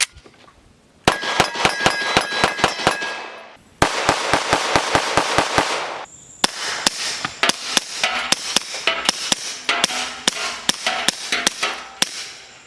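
An FN 509 Tactical pistol fires in quick rapid strings of sharp, loud, close shots, with short pauses between strings as the firing sets change.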